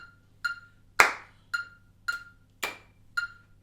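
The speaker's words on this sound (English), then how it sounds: "we're gonna clap this pattern" Hands clap a steady rhythmic pattern of seven sharp, close claps, with one louder accented clap in the run.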